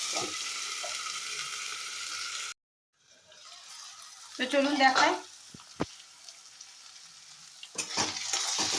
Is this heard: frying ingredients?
yes